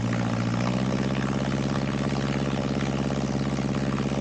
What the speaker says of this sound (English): then we'll launch off down the runway with the 65 horsepower